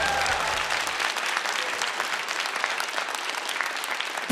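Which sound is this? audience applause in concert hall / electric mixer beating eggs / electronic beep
audience applause in concert hall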